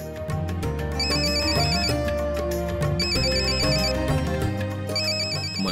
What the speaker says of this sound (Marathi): मनोहचा फोन